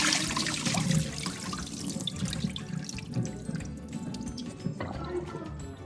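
Tap water runs steadily into a sink as fish is washed beneath it, with splashing and dripping changing as hands move the fish under the stream; no talking.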